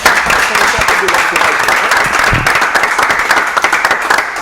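A crowd claps loudly and steadily, dense applause filling the room with a few voices mixed in.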